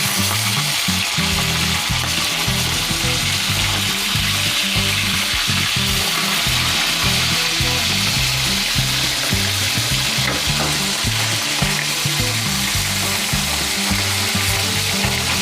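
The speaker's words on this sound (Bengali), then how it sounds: "মাছটা 1 পিঠ হয়ে গেছে ভাজা। আমি এবারে আর একটা পিঠ উল্টে দেবো" Pieces of rohu fish fry in hot oil, flipped partway through, giving a loud, steady, close sizzle with crackling spatters that continues unbroken and without voices.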